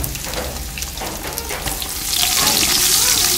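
Onions hitting hot oil in a pan where garlic has browned, a steady crackling sizzle that swells louder and brighter as the onions go in, with a few scraping stirs underneath.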